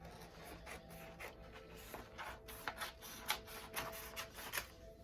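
A Cricut cutting machine works on vinyl with a steady, close mechanical rasp, scattered ticks and small shifting bursts throughout.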